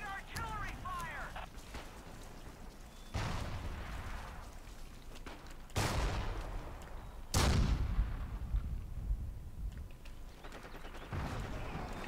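Artillery fire in the video game Forgotten Hope 2: several heavy booming blasts, a few seconds apart, with a loud close one near the middle. A voice is heard between the blasts.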